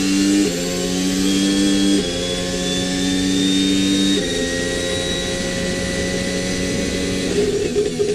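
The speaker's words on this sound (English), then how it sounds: "this is how the onboard engine audio sounds like" A Formula 1 car's onboard engine sound: a loud, continuous high-revving whine held close, with several abrupt pitch steps as gears change.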